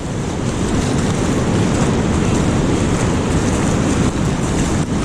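Big ocean surf surges loudly and without pause along the rugged Catlins coast of New Zealand, a dense, close roar of crashing water blended with gusting wind buffeting the microphone, with no voices.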